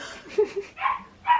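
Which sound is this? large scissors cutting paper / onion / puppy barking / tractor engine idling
puppy barking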